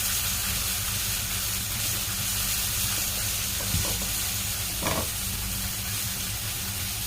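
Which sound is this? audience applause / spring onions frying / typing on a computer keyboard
spring onions frying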